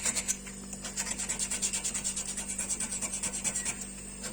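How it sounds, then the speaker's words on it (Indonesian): Sandpaper rubbing off paint on a refrigerator's metal panel near a knife puncture, with quick repeated strokes that form a steady, close scratching rhythm and no voices. "Jadi kita amplas begini"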